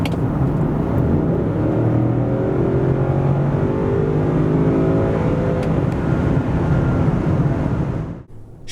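A 2024 Range Rover SV's 615-horsepower V8 roars as it accelerates hard, the pitch climbing through the gears with a deep, throaty rumble before cutting off abruptly.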